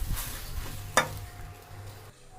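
Okra frying in a pan gives a close, steady sizzle with a stirring scrape and a sharp clink partway through, with no talking.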